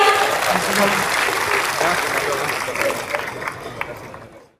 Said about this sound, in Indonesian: Kita berikan aplaus Bapak Ibu sekalian